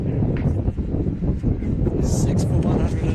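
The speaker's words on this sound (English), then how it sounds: "the breeze comes shooting through. Gusting again." Gusty wind buffets the microphone at an outdoor cricket ground during a Brisbane premier league match, a steady low roar that swells and surges throughout with a few brighter rushes near the end.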